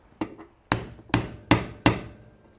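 Hammer blows flaring a rivet on a door latch from a Chevy square body truck: five sharp, close metallic strikes, evenly spaced and ringing briefly, with no talk.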